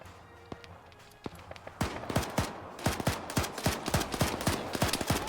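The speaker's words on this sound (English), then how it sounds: "They're firing off on him." Gunfire in the video game Arma 3 begins with a few sparse shots and then builds into dense, rapid bursts of automatic fire. The shots sound fairly close, and running footsteps can be heard faintly beneath them.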